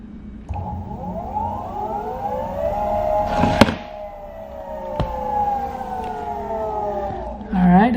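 Meepo electric skateboard motor on its high speed setting, rated up to 22 mph, gives a loud whine that climbs in pitch, holds, then sinks, with a sharp knock midway and a brief rough burst at the end.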